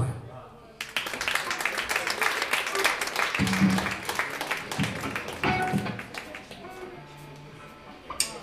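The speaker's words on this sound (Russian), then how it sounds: "Хлопаем." An audience claps after a punk band's song, a brisk burst of fairly close, distinct hand claps that thins out toward the end, with voices mixed in.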